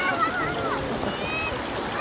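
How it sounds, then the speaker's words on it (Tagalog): Running water of the wide Palakol River in Floridablanca, Pampanga, a steady broadband rush and splash heard close, with a person talking over it and wind blowing. "Running water siya."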